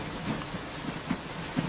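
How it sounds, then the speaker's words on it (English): Soft rain patters steadily just outside a door, a low, even hiss with faint scattered drops. "Rain whispered softly outside the door."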